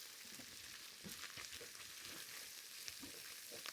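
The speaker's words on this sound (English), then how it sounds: "Getting some good fond on the bottom of that pan." Beef and shallots frying in a pan for beef stew, building fond, a steady close crackling sizzle with soft stirring bumps, fairly quiet and without speech.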